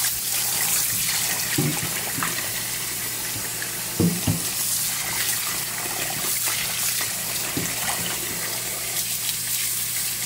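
Fresh southern greens are washed by hand in a sink of water, with continuous soft sloshing and a few sharper splashes and knocks, close and fairly quiet.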